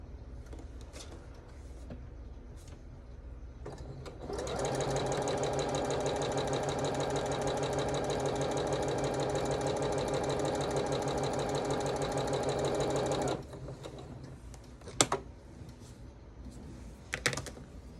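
A sewing machine stitches a quilt block corner to corner, running at a steady, fast, even drone for about nine seconds before stopping. Faint handling clicks come before and after, with no talking.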